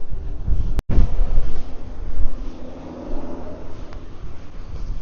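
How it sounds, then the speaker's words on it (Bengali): Strong wind gusts buffet the microphone on a stormy Japanese seashore, with the broad rush of big waves underneath and a brief dropout near the start; no one speaks. "আজকে বাতাস প্রচন্ড এবং সমুদ্রের বড় বড় ঢেউগুলো এখান থেকেই দেখা যাচ্ছে"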